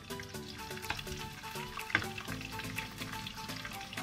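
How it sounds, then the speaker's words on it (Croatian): Bacon frying in a pan, a steady crackling sizzle with small pops, heard close under faint background music tones. "zatim izvadite sve to i stavite slaninu da se peče. Dakle, ubacujete slaninu."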